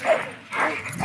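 A bull terrier gives two short whimpering whines in quick succession, close and fairly loud, with no talk over it.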